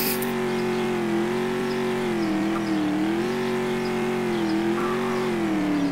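A car engine in a Roblox chase game revs in a steady, loud, close drone that rises and falls slightly in pitch throughout, with no talk over it.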